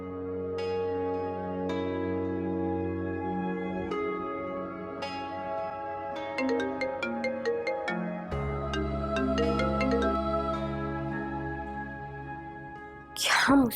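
A phone plays a melodic ringtone over steady sustained tones, repeating chime phrases for several seconds before a short burst of noise at the end.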